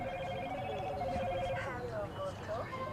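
A loud telephone ringtone sounds near spectators at a varsity baseball game, its steady repeating tones continuing through the clip while crowd chatter and talk carry on underneath.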